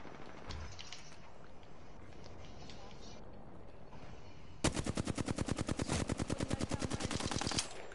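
Rapid automatic gunfire in a Bangalore match of an online shooter game fires a long, evenly spaced burst of sharp shots, loud and close, following several seconds of quieter game ambience and scattered distant shots.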